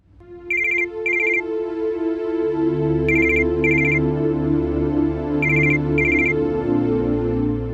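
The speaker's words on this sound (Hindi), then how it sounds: "कहीं समीर का फोन तो नहीं है।" A phone ringtone chimes in short repeated bursts of bright electronic tones, sounding in three pairs over a steady low musical background.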